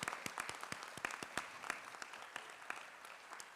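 Scattered, fairly faint clapping from a graduation audience at the CROOM class of 2022 ceremony, with distinct individual claps standing out from a thin background rather than a full ovation.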